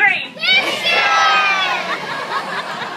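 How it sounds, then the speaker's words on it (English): A zoo crowd at a seal training show shouts a word together in unison, a loud burst of mixed adult and children's voices that stays up as cheering and chatter continue. "on the count of 3, I need you to yell out whiskers"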